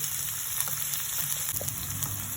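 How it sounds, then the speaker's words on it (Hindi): Chopped onion frying in a pan, softening as a filling for veg fish-shaped samosas, gives a steady, close sizzle that runs unbroken throughout, with a few faint crackles and no talking. "इसे हल्का 2 मिनट तक मैं सॉफ्ट करूँगी ताकि ये प्याज अच्छी तरह से सॉफ्ट हो जाए।"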